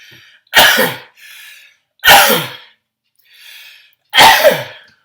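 Three sharp sneezes spaced about a second and a half apart, each preceded by a short breathy inhale, loud and close.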